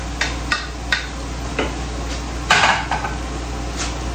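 Vegetables being stirred in a pan for a stir-fry, with a handful of light scraping and clinking hits from the utensil against the pan spaced unevenly over a steady low background hum.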